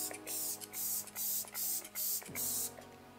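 Glam Glow setting spray misting in short soft bursts, about six quick hisses in a row, close and fairly quiet, with no voices.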